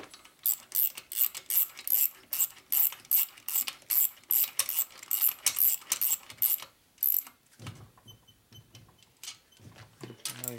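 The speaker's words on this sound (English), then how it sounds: "so I go to the next one, which is in this middle on this side. It pulls the head down evenly" A wrench ratchets rhythmically while torquing the cylinder head bolts on a 1980 Harley-Davidson Shovelhead 92ci stroker top end. About a dozen close, crisp bursts of clicking run steadily for seven seconds, then give way to quieter handling sounds.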